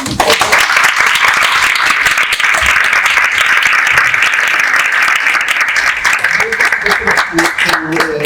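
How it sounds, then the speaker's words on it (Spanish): A crowd applauds continuously with dense, steady clapping throughout, loud and close, with some voices mixed in. "Les pido un último aplauso para Lilia."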